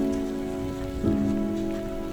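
Steady rain falls on a Kilimanjaro climb, a constant close patter on surfaces with a faint low hum underneath.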